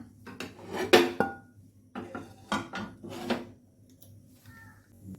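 A cooking pan set on a stove in a home kitchen, sounding as a few sharp metallic clanks and knocks close by, spaced out with quiet gaps between them.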